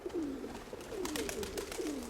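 A small female pigeon coos repeatedly in a steady rhythmic series of close, clear calls, alone with no talking.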